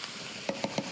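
Onions and garlic sauté in a pan, a soft steady sizzle broken by three quick scraping stir strokes near the end.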